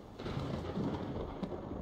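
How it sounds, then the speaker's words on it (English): Rain and rolling thunder in the video game Skyrim, a steady wash of rainfall with a low rumble swelling across the moment and a brief sharper crack near the end, without speech. "It's gonna stop raining."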